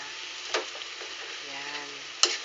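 Cabbage frying in a pan as it is stirred, a steady close sizzle with a couple of sharp utensil clacks and a brief faint hum in the middle.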